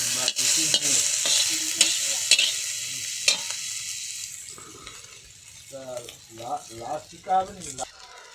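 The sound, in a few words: bay leaf, ginger and crushed coriander frying in pan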